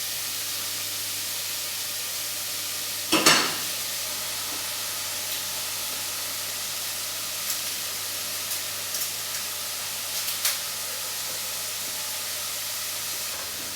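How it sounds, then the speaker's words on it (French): Aromatic vegetables for lentils sweat gently in a pan with a soft, steady sizzling hiss, broken by one brief, sharper spitting burst and a few faint pops. "la garniture aromatique des lentilles est en train de suer"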